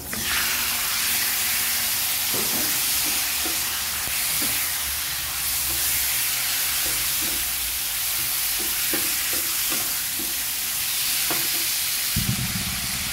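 Chicken sizzles steadily in a hot pan during Malaysian cooking, with a loud, continuous frying hiss and occasional stirring knocks throughout.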